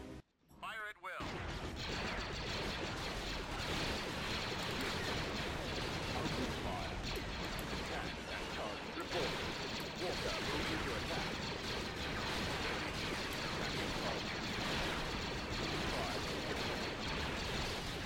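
Sustained starship weapons barrage in the space strategy game Star Wars: Empire at War, a dense, loud wash of blasts and explosions running continuously after a short quiet opening, with a voice speaking faintly underneath.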